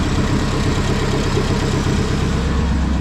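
A Renault 5 GT Turbo engine, converted to electronic fuel injection with a MaxxECU, idles steadily with a dense, even mechanical hum close by and no voices.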